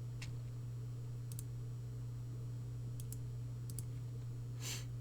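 A few isolated keystrokes click on a computer keyboard, faint and spaced apart, over a steady low electrical hum.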